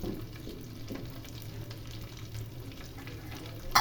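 Beef frying in oil gives a low, steady sizzle with faint irregular crackles, close but quiet, without any voices.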